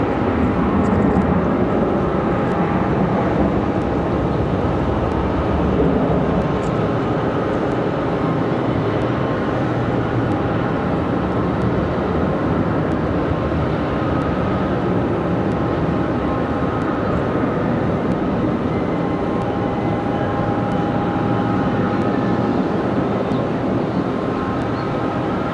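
An American Eagle regional jet operated by Republic Airways roars steadily on departure at Raleigh-Durham International, a broad continuous jet rumble holding loud throughout with no talk.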